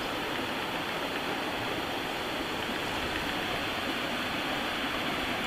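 A creek flows below a balcony in natural surroundings, giving a loud, steady rushing wash of water that continues unchanged throughout, with no voices.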